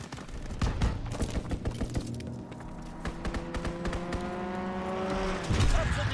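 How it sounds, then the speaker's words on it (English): Automatic strafing-run gunfire in a capture-the-flag video game match, rapid bursts rattling over a steady engine-like roar, with overlapping vehicle and game sounds throughout. "Strafing run inbound."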